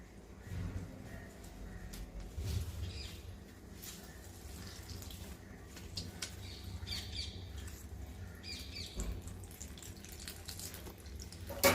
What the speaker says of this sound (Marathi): तुम्ही बघू शकत असाल की कसं पाणी त्याचं पडतं आहे.